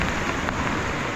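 Rain pours down on a camper outdoors, a dense, even hiss of drops filling the short stretch close by with no voices.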